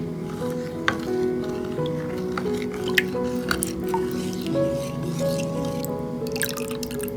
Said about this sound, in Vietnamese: Phần bột đã ngâm thì mình thêm vào một thìa canh dầu hành phi và khuấy đều lên